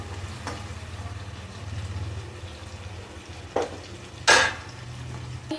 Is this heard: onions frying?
yes